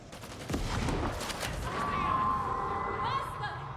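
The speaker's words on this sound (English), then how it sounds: "I'm just gonna shoot like crazy" Rapid video game gunfire in a wave-based shooter, a sustained loud burst of shots blending into a dense rattle alongside other game effects, with no talking over it.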